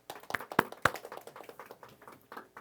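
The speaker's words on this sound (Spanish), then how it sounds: "pues denle un aplauso al Eterno" Scattered hand claps from a church congregation, a few sharp near claps at first thinning into lighter, uneven clapping, fairly quiet overall.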